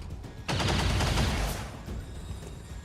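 Gunfire erupts in the XCOM 2 strategy game during a point-blank firefight, a loud burst of rapid shots starting abruptly and rolling on with a sustained crackling tail.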